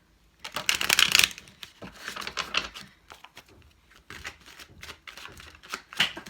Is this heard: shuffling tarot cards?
yes